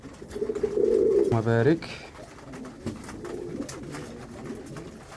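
Pigeons coo up close while being fed, with soft throaty rolling calls over shuffling and light chirps. Someone talks over them.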